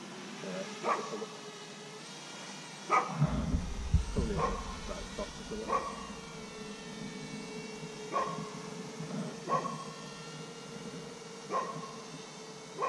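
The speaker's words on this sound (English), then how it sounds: "Oh, what's he barking at?" A dog barks in short single yaps repeated every second or two across an open outdoor field where a drone is flying, fairly distant under a steady background hum.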